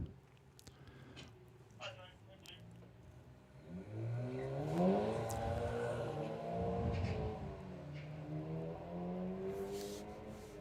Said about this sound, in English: So another one of our VW, another one of our VW racers.